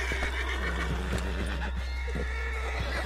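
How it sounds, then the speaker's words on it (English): A horse in the Red Dead Redemption 2 video game gives a clear, wavering neigh amid soft hoof clops and a low steady hum, the whinny fairly close and moderately loud. "On the back of John's horse, and let's get out of here."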